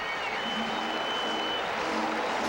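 Tennis crowd at the US Open, Calleri versus Hewitt, applauding and murmuring in a steady broadband wash, with no clear voices standing out.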